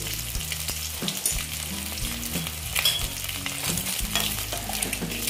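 Eggs fry hard in oil in a pan for an egg and potato curry, giving a loud, constant sizzle with bubbling crackle and occasional stirring clinks, close by and with no voices.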